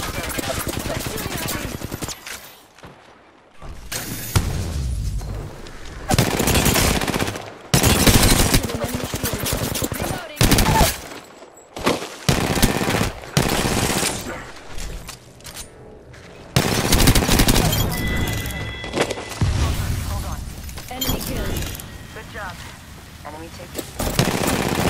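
Rapid automatic gunfire and scattered shots ring out in an Apex Legends match, coming in dense bursts with brief lulls, mixed with game effects and a voice talking at times.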